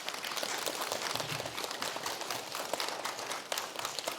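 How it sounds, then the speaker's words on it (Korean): Church congregation clapping to welcome a missionary to the front during a Wednesday service, a faint, steady patter of many hands heard from a distance with no voices. "크게 축복하는 마음으로 큰 박수로 모시도록 하겠습니다."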